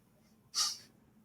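A single sharp sneeze bursts out close to the microphone, brief and hissy, in a quiet room with nothing else around it.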